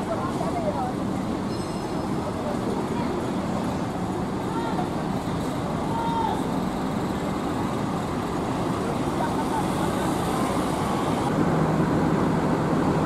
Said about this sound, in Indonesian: ini bis selanjutnya yang baru saja masuk di Terminal Koris